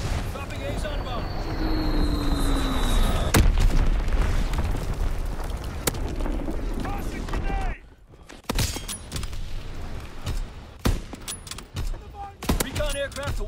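Artillery strike explosions in Call of Duty WWII multiplayer, heavy booms and crackling bursts rolling through a loud, dense battle mix, with a brief lull before sharper blasts return, all under radio-style voice callouts.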